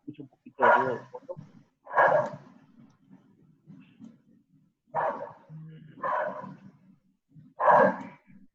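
A small dog barks in five or six separate sharp yaps spaced a second or so apart, fairly clear against a quiet room, with soft breathing-like sounds between barks.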